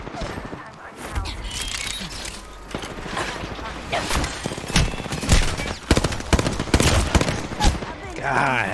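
Rapid video-game gunfire crackles in dense volleys with booming bursts, loud and continuous, while someone talks over the shooting.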